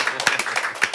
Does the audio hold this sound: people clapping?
yes